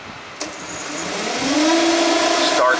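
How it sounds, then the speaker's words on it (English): A CNC machine spindle starts up and spins toward speed, a rising mechanical whine with a steady motor hum that builds and holds, close and moderately loud, with no talking. "So we're going to start the spindle"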